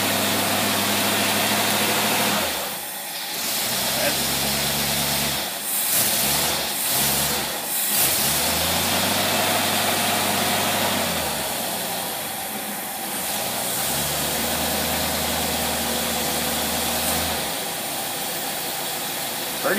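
An engine with an old Holley two-barrel carburetor idles and runs with a steady mid-pitched drone, dipping and rising as the throttle changes several times, close and loud.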